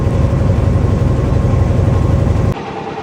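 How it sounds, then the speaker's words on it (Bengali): Trawler boat engine running at sea, a loud, steady low throbbing drone that drops away abruptly near the end. "এদিকে ট্রলার ছুটছে আমরা ছুটছি"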